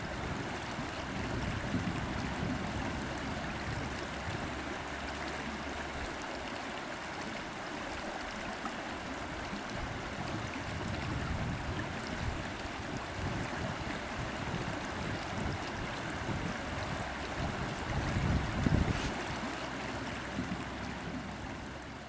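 The River Tanat at Llangynog in Wales, swollen in wet weather and flowing under a bridge: a steady, broad rushing of water close by, mixed with gusty wind on the microphone, with no talking.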